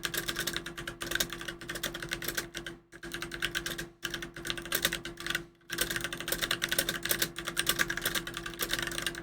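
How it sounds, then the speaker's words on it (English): Rapid typing on a computer keyboard during a live stream, a fast continuous patter of key clicks with a few short pauses and a steady low hum beneath. "Sorry if you can hear me typing up a storm."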